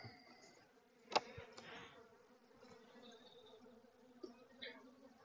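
Bees in an open beehive during a hive inspection, a faint continuous insect drone with a sharp click near the start and light handling sounds throughout.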